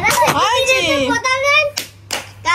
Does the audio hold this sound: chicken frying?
no